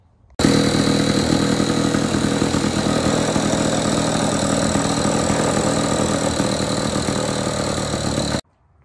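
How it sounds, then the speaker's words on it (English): A Lawn Boy 3050 lawn mower engine runs steadily and loudly, close by, starting after a brief pause and holding a constant rough drone for about eight seconds before cutting off. "as you can see, the 3050 runs"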